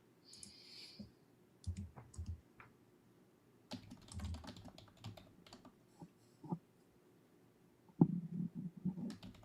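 Computer keyboard typing in short irregular bursts of soft clicks, close by and fairly quiet, with pauses between runs and a louder cluster of keystrokes near the end during a live stream.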